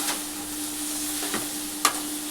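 Chopped coconut added to tomato fries in a pan for Marathi-style Koli sambar, a soft steady sizzle with a few stirring scrapes and one sharp spoon knock near the end.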